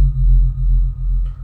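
Deep, sustained 808 bass tones pulse steadily at low pitch, with a slight change near the end; no voices.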